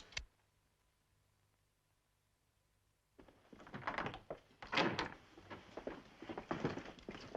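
A door is forced and broken in: after a sharp thump and a quiet pause, a close burst of heavy banging, cracking and clattering wood follows in rapid irregular blows.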